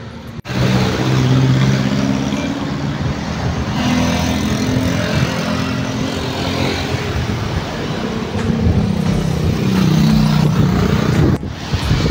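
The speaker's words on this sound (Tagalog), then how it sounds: "Marami nang dumadaan dito guys nga mga sasakyan." Steady, dense road traffic rolls across the new flyover over the Open Canal in Imus City, Cavite: cars and motorcycles pass close and loud in a continuous engine drone, with occasional revving and no talk.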